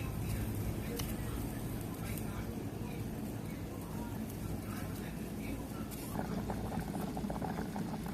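A pot of Thai fish soup with shrimp paste simmering at a rolling boil: a steady, close bubbling and popping that continues throughout, with a few louder spatters near the end.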